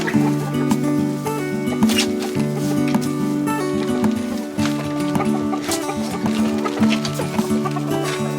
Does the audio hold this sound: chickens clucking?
yes